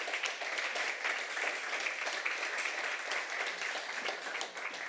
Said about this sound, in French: Je crois qu'on peut applaudir nos quatre intervenants.